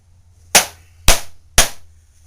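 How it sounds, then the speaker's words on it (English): Three sharp, loud pounding blows land at an even pace on a plywood board holding down a flap of a homemade absorber plate, each crack standing alone with a short decay and quiet between strikes. "we really should use a nice big piece of plywood to hold it in place, and then continue our pounding"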